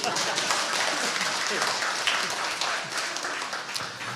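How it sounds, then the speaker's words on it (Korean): Applause at a public broadcast talk event, a fairly quiet crowd clapping steadily in the background with scattered voices mixed in, tapering slightly toward the end. "박수 치는 거 마저 치세요"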